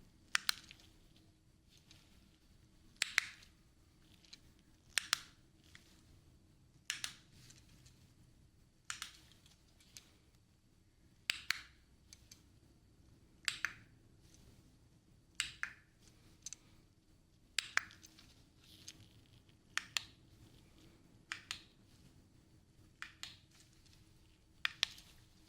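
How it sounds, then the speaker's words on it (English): Remote control button clicks, sharp and sparse, about a dozen single clicks spaced a couple of seconds apart over quiet, close-miked background hiss. "now we're moving on with those remote clicks again."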